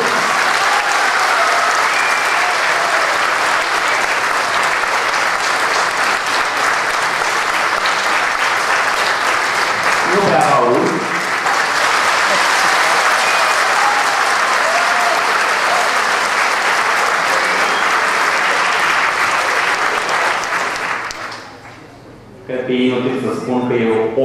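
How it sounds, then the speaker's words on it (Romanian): Sustained loud applause from a large audience honouring Mircea Cărtărescu at a doctor honoris causa ceremony in Bacău, dense clapping that runs on evenly before tapering off near the end as a voice begins. "Încă o dată, vă rog aplauze și mulțumim din suflet Mircea Cătărescu."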